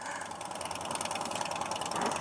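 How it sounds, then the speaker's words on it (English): Motorcycle engines idling as riders warm them up at a drag strip, a rapid mechanical ticking chatter with a fast, even pulse that grows slightly louder toward the end. "We got all these guys warming up their engines."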